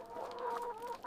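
Broiler chickens clucking inside a crowded broiler house holding tens of thousands of birds, a steady mass of overlapping clucks and calls at moderate level with no voices.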